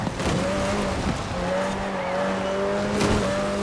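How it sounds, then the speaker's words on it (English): Race cars cornering together in the Forza Horizon 4 racing game, engine tones droning steadily with tire squeal and skidding layered in, loud and continuous with no talk. "That's making an awful lot of noise. I've never seen so many cars make a corner before."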